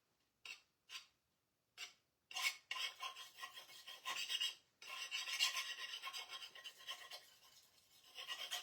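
A few short scratchy strokes, then sustained close rasping as a round wooden gingerbread cutting board is sanded back, quiet and continuous with no voices.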